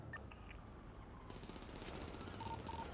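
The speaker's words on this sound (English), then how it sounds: "Shots on the west side, directly above the open hangar." Gunfire in GTA V roleplay on the NoPixel server, fired around an open airport hangar and its roof: a dense, rattling burst of rapid shots that starts partway through and keeps going over a constant noisy game background.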